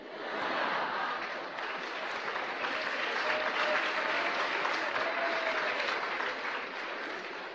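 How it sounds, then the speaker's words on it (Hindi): A lecture audience breaks into sustained applause, dense steady clapping from many hands filling the hall for several seconds, fairly close and even in loudness. "जिस पे ताली नहीं बजानी चाहिए उस पे ताली बजाते हैं।"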